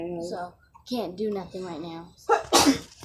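A child's sharp, loud sneeze bursts out right after a few spoken words, close to the mic.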